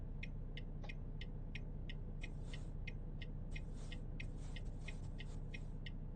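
A truck engine in the American Truck Simulator driving game rumbles steadily and low throughout, with a regular series of short, bright ticks repeating over it.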